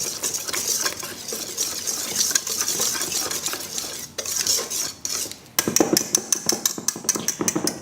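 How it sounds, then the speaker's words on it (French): A whisk clinks steadily against a bowl while beaten egg whites are folded into a chocolate praline mousse, rapid metallic taps that pause briefly and then resume in a quicker, more distinct rhythm. "Et on va fouetter lentement,"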